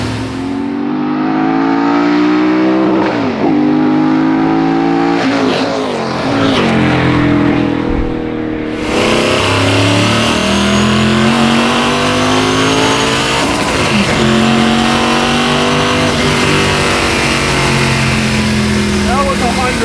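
An INDYCAR-powered Martini Mustang Fastback engine revs hard and loud up to the rev limiter, rising and falling in repeated sweeping pulls with a steady roar, close and dominant throughout.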